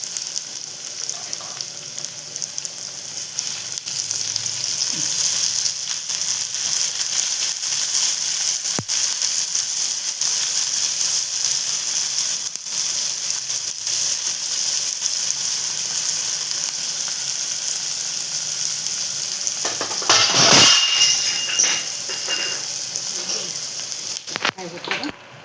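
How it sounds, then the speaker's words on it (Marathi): Onion and chopped tomato sizzle steadily in hot oil in a pan while idli upma is being made, a continuous close frying hiss throughout with a brief stir-like burst near the end. "ते इथे आपण कांदा परतवून घेऊ"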